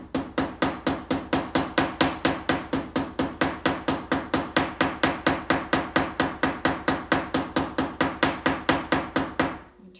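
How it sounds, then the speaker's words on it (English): Rapid, evenly spaced metallic ball peen hammer taps on a rivet through leather and stone, dozens in a steady rhythm, close and crisp, stopping abruptly at the end. "I'm going to take my ball peen hammer, and I'm going to hammer it around the edges."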